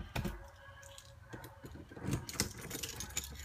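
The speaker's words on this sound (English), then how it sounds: "let's see if we have a key to this door" A set of keys jangles and clicks in a door lock, producing short, close metallic rattles and scrapes in quick irregular bursts.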